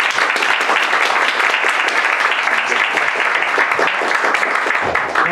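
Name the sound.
audience applauding a lecture speaker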